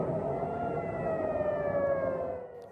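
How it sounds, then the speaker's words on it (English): A wailing air raid siren rises and falls across Tel Aviv during a Hezbollah rocket barrage, heard at a distance over low background rumble. "sirens blared across Tel Aviv"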